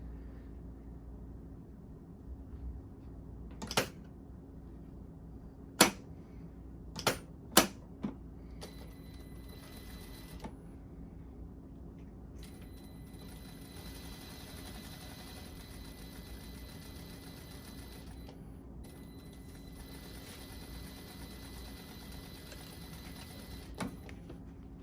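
A sewing machine stitches seams on non-woven polypropylene fabric masks with quarter-inch seam allowances, running in long steady bursts after a few sharp clicks, close by and quiet with no talk.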